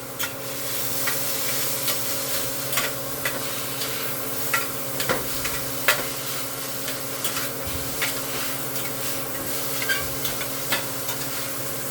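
Chicken browning in a pan crackles with a soft, constant sizzle while a utensil scrapes and stirs in irregular knocks and clinks, close up and without talk.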